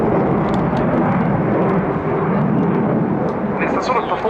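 A Dassault Rafale C fighter jet performing a display at the RIAT 2018 airshow, a loud, continuous broadband jet roar filling the whole clip, with a commentator talking over it.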